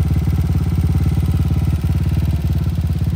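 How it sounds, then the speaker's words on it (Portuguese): A 1999 Honda Titan motorcycle with a reworked fuel-injected engine and an Athlon ECU idles close by, its steady, even low putter running throughout with no talk over it. "A moto fica na lentinha."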